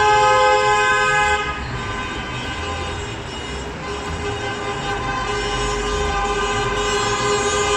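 Car horns toot steadily in a newlyweds' wedding motorcade, several sustained tones layered together, loud and close, with a busy traffic rumble underneath and no talking.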